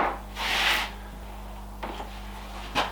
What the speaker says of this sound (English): I start by scribing a center line.